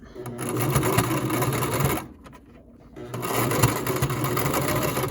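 A home sewing machine runs a wide, tight zigzag stitch on a homemade fabric face mask, whirring rapidly up close, pausing for about a second, then whirring again in a steady burst.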